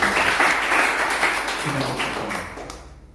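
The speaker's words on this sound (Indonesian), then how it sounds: "Berikan tepuk tangan yang paling meriah." Church congregation applauding together in a dense, loud burst of clapping that gradually thins and fades out toward the end, with no voices over it.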